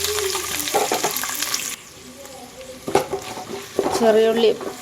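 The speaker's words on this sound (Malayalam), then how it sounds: "അപ്പം നമുക്ക് എണ്ണ ചൂടായി വരുന്നുണ്ട് നമുക്ക് ഈ ഉള്ളി ഇട്ട് കൊടുക്കാം കേട്ടോ" Onions and green chillies dropped into hot oil, frying with a bright sizzle and stirring clatter in a pan, loud and close, the sizzle dipping midway then swelling again with scraping.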